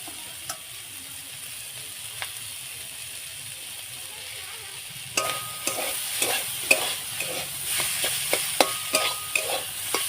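Mashed boiled potato being stirred and mixed with fried cauliflower in a pan, with chilli powder and crushed nuts added. Quiet at first, then a run of repeated scraping stirs and clinks over a soft frying sizzle.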